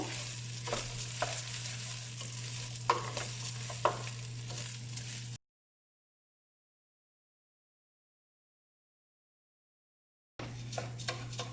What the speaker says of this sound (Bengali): এখন আমি এটাকে চালটাকে একটু ভালো মতো ভেজে নিব